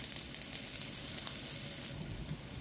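Ginger sautéing in a hot pan, a continuous bright sizzle and hiss up close that eases slightly toward the end, no voices.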